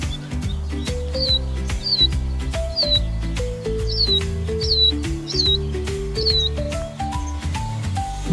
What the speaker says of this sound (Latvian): putniņš ir izkritis no ligzdas.